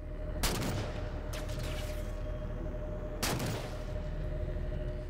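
Halo 4 video game gunfire: three sharp blasts land at irregular intervals over a steady low engine rumble and hum, fairly loud and close, with no talking.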